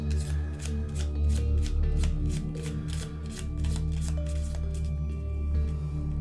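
A deck of Arkham Horror card-game cards being shuffled, a steady run of rapid, close riffling flicks lasting the whole stretch with no talk.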